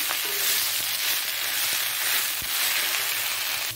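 Steady, close sizzling of food frying in a pan, a continuous hiss with a few faint clicks, no voices.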